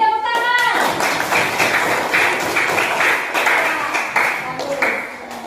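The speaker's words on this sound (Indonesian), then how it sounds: "Beri tepuk tangan." Children in a classroom clap together in a burst of dense, overlapping applause that stays loud for several seconds before thinning out, with a voice speaking briefly near the start.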